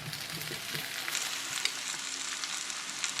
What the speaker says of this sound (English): saute for 5 minutes, stirring regularly with a spoon